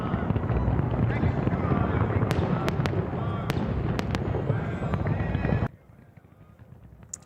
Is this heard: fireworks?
yes